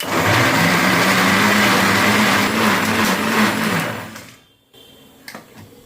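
A mixer grinder purées tomatoes and garlic with water, a loud continuous whirring grind for about four seconds that then winds down and cuts off, followed by faint clatter.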